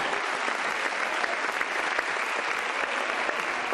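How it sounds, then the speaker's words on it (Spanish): A church congregation at an evangelistic crusade claps in praise, a thick, even wash of many hands heard close and sustained throughout, with no speech over it. "¿Cuántos le dan un aplauso de alabanza al Señor?"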